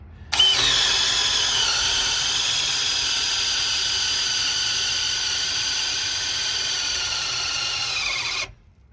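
A DeWalt DCD996 cordless drill driving a large bit whines steadily at a high pitch for several seconds, starting and stopping abruptly, with a faint grinding undertone as the bit bites.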